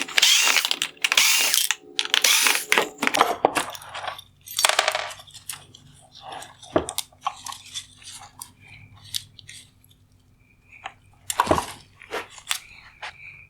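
A T15 Torx driver ratchets out screws from the upper LED of a 2015-2019 Land Rover Discovery Sport xenon headlight, with close, quiet clicking bursts, small metallic taps and plastic handling noises in between.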